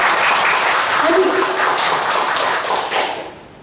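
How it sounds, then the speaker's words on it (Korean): An audience at a Korean worship concert breaks into loud, sustained applause, dense clapping that fades out toward the end, with a brief voice speaking over it. "박수."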